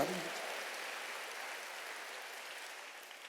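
Worshippers in a Korean church clap during a Wednesday service prayer meeting for peaceful reunification. The applause is a soft, hissing, rain-like patter that stays even and faint for a few seconds.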